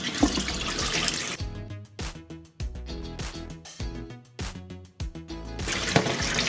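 Tap water runs into a bowl while something is rinsed, bursts of splashing gushing at the start and end with a broken, gurgling flow between, close and moderately loud, no speech.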